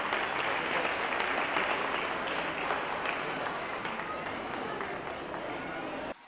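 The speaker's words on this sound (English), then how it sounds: "So I request the audience to please wave a clap again for them." Sustained applause from the audience at a school annual day function, honouring the chief guests; dense, steady clapping fills the whole stretch before cutting off abruptly at the end.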